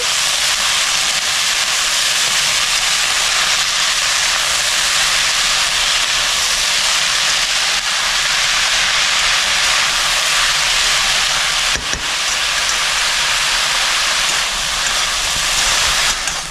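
Chopped red spinach, a whole bunch, sizzles loudly in a hot pan as it is mixed in, a dense continuous hiss with faint stirring knocks, close and without talk.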